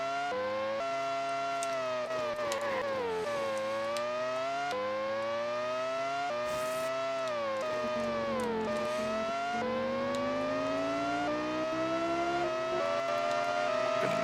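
Formula 1 race cars in the PS1 game Monaco Grand Prix: Racing Simulation 2, a loud, continuous, high-pitched engine whine rising and falling through gear changes, with other cars droning alongside.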